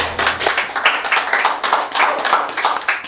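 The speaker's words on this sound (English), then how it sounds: "we applaud you too, Courtney" Applause at a community arts event, a dense steady patter of many hands clapping close by, continuous for the whole stretch with no voices over it.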